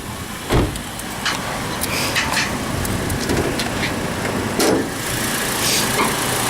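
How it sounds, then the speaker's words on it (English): A Toyota Corolla's engine idles with a steady low rumble and a few faint knocks and taps, heard up close with no talking. "We've got the car turned on at the moment, so I'll let you have a listen to that."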